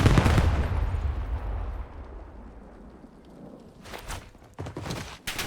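In Call of Duty Warzone, a loud, booming volley of gunfire opens, then fades into low rumble before sharp, rapid shots crackle again near the end.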